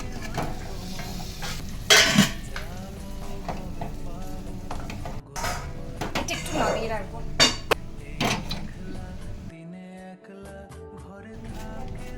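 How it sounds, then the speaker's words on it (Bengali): Potatoes tumbled and stirred into sizzling spices in a home kitchen pot for a simple biryani, with scraping, clattering metal and frying hiss in steady bursts, voices talking over it. "এবার আমি আলুগুলো অ্যাড করে দেবো"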